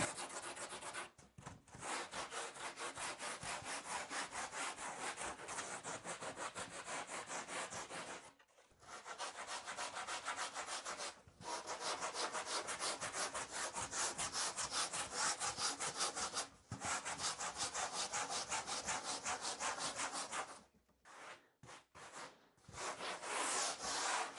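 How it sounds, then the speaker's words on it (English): Steady, rhythmic rasping strokes of a sanding block rubbing back and forth over a surfboard's double concave bottom, continuing with a few short pauses. "Then I'm going to use my sanding block to clean it up."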